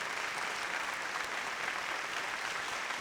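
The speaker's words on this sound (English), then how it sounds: "Please welcome on stage with a huge round of applause, Uday Kotak." Applause at a banking summit as a speaker is welcomed onstage, a full, even roar of many hands clapping from a large audience, sustained without a break.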